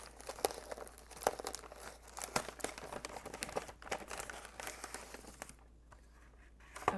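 Handmade Christmas gift wrapping paper crinkles and tears softly as it is carefully unwrapped to save the paper, with scattered rustles and crisp crackles close by.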